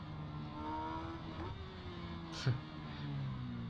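A Kawasaki ZX-10R in the Ride 4 racing game, ridden in a time trial at Monza from the helmet view, gives a quiet, steady engine tone that shifts pitch, with a brief sharp burst midway as the rear brake is applied.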